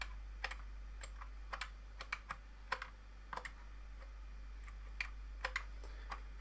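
Fast, uneven keyboard typing while a retro game runs on a Commodore Amiga A1200, sharp clicks in brief bursts over a steady low mains hum, fairly quiet and with no talking.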